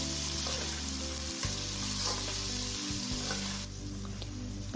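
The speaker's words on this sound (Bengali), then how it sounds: "পেঁয়াজটা ভাজা ভাজা হওয়ার জন্য একটু ওয়েট করছি" A generous amount of onion fries in oil with a tempering of cinnamon and cumin, a continuous close sizzle and crackle with a low hum beneath, steady and alone without talk.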